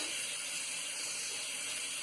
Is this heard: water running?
yes